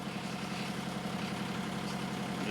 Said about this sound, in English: We're going to test the engine-driven refrigeration.